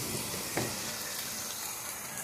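Chukakura chutney ingredients sizzle steadily in a pan, a continuous close frying hiss with one brief stir or clatter partway through.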